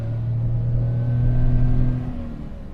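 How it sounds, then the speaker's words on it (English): Small Daihatsu three-cylinder car engine accelerating from the cabin, a steady low droning rumble with a thrummy note that holds loud and even, swelling slightly mid-way before easing. "Oh, don't you love 3-cylinder engines?"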